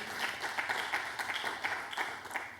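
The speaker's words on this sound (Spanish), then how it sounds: "Démosle una ofrenda de palmas al Dios de la gloria." A church congregation in a Spanish-language service claps in praise, a short burst of rhythmic, fairly even hand claps that repeat in quick succession before fading.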